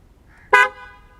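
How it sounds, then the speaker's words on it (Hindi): A Ford Endeavour Sport variant SUV sounds its horn once, a single short, loud, close honk against an otherwise quiet background. "Let's listen to the horn now."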